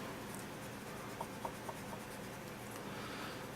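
A small eraser rubs on drawing paper during a landscape sketch of water and rocks, giving a faint, continuous scratchy friction with a few soft taps, close and quiet with no talking.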